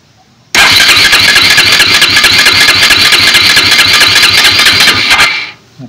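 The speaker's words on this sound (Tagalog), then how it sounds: "So papakrank lang natin." A KTM Duke motorcycle with a damaged oil pump and low oil pressure is cranked, a loud rapid mechanical churning that begins abruptly, runs steadily for several seconds and then cuts off.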